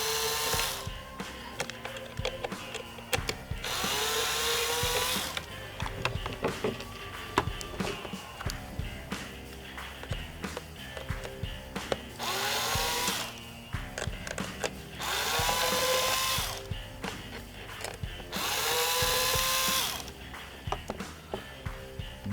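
A power driver whirs in several separate bursts, backing out bulkhead screws on a Stryker ST stretcher, with clicks and metallic handling between runs, close and with no talking.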